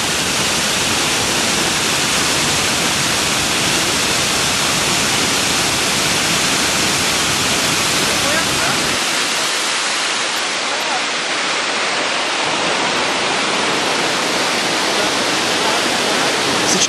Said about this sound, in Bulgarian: и ето следващите водопади.